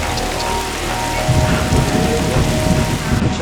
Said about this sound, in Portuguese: Tá aproveitando que começou uma tempestade de verão aqui